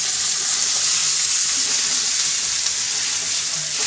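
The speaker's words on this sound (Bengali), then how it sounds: "মাংসটা জল দিয়ে দিই।" Loud steady sizzling and hissing as water meets hot oil and frying chicken curry meat in a pan, a continuous close bubbling spatter with no talking.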